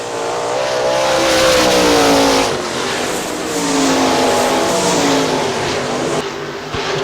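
410 sprint race cars roaring around Hartford Speedway Park in Michigan, a loud, sustained engine drone that rises and falls in pitch as the cars accelerate down the straightaway and into the turn.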